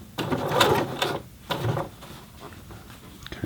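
A Singer Heavy Duty 6800C sewing machine sews a longer stitch, giving short mechanical whirring bursts with brief pauses between them, close up.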